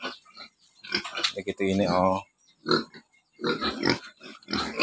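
Fattening pigs on a farm in Gattaran, Cagayan, give a loud drawn-out squeal amid grunts, heard under close conversational speech.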